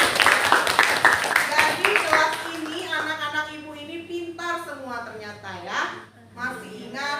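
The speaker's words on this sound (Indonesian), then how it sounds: "Tepuk tangan dulu lah" A class of students gives a short burst of brisk group clapping in a classroom, and a teacher's voice takes over as the applause fades.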